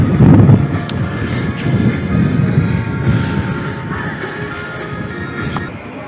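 Steady low rumbling buffets of wind hit the microphone on a Blackpool beach, a dense roar that swells and eases for several seconds with no voices.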